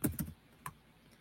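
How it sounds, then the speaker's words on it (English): A few quick keystrokes on a computer keyboard, two close clicks followed by a single softer tap, then near silence. "I'm going to type it."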